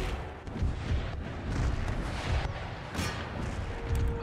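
Cannon artillery firing in the battle strategy game Empire: Total War, repeated heavy booms and crackling volleys rolling over a constant battlefield rumble, with no voices.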